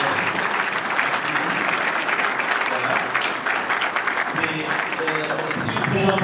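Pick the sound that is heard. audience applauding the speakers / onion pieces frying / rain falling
audience applauding the speakers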